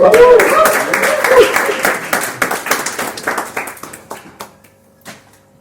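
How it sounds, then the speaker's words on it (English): A crowd bursts into loud applause with cheers and whoops, the clapping fading out over several seconds to near silence. "Let's give a big whoop and round of applause."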